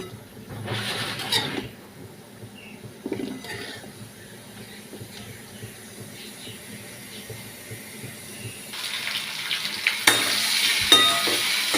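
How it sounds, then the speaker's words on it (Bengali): Steady sizzling of okra frying in a pan, with bursts of scraping and stirring; the hiss grows louder and brighter toward the end. "ভেন্ডি ভাজছি"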